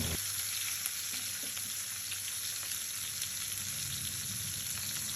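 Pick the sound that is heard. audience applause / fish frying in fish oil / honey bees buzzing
fish frying in fish oil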